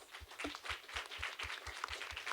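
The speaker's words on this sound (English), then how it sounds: "A big round of applause for the speakers." An audience at a higher-education panel on AI claps for the speakers in a dense, fairly faint spread of applause, with a steady low rhythmic thump running underneath.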